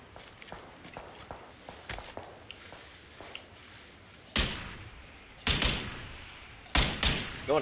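In the PUBG battle royale game, quiet footsteps and small clicks lead into several loud, sharp gunshots fired in separate single blasts and short pairs, each with a quick decaying tail.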